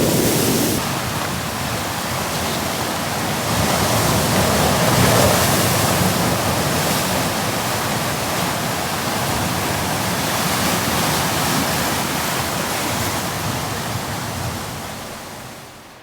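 Water retreating through the rocks of a pebble beach, a continuous broad rushing hiss that swells slightly and fades near the end, close and steady with no voices.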